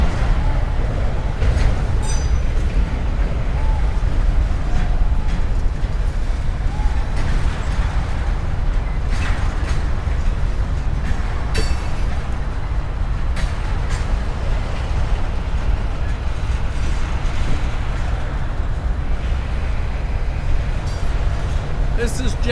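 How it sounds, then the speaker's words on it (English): Freight trains roll through Macon Yard as inbound and outbound trains move on separate tracks, giving a steady, loud rumble and grinding with scattered metallic clanks throughout. People talk over the noise. "our inbound train is in. Our outbound train is going out on the other side."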